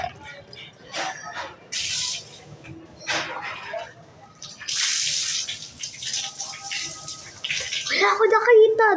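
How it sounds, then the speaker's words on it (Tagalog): Water splashing and pouring as someone bathes, irregular bursts of spray and sloshing rising and falling over several seconds, close and fairly loud, with people talking between and over the splashes. "naliligo ako!"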